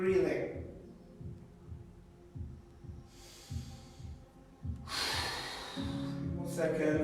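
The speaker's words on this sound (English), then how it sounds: "Big breathing." Big, deep breaths during a stretching exercise class, a series of audible inhales and exhales with two long airy breaths standing out, over soft background music.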